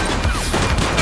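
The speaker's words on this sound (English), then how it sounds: "Light them up! Shots fired!" Gunfire in The Precinct police game during a shootout with suspects, a continuous loud fusillade of overlapping shots filling the whole second with no clear gaps.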